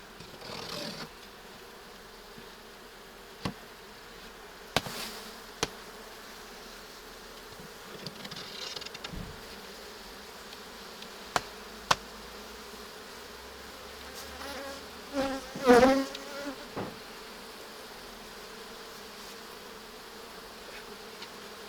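Constant low buzzing of honeybees swarming close by, with occasional knocks and clicks from handling, moderately quiet.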